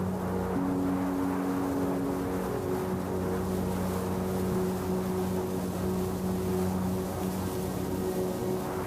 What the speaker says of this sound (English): you can hear the soft ripple of boats as they glide across the peaceful waters